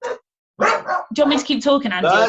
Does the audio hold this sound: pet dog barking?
yes